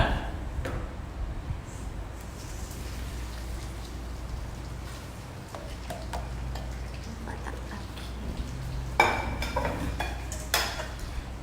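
Prawns sizzle in a hot wok, giving a dense, continuous crackle with scattered louder pops and ticks throughout and no voices.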